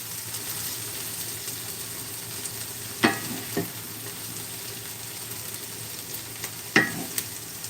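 Browned onions sizzling in a pan while being stirred, a steady soft frying hiss with two sharper scrapes of the utensil against the pan, and no talk.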